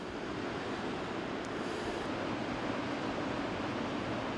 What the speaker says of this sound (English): even these beginning waves are huge. You know, and curling too.